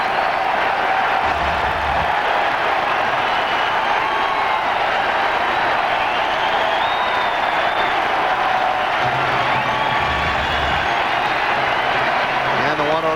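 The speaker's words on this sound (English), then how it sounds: "Crowd giving Hillenbrand an extended standing ovation" Baseball crowd at a Yankees–Red Sox game at Fenway Park in 2002 giving Hillenbrand an extended standing ovation: a steady, dense roar of applause and cheering holds throughout, broad and unbroken, with scattered whistles over the wash.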